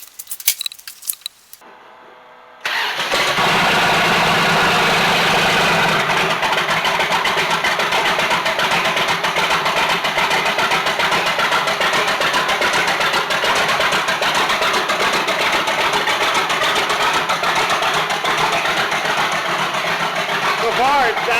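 Rat rod engine idling after a lifter replacement, starting after a few seconds of small clinks, then running at a steady, loud, even idle close by for the rest of the stretch.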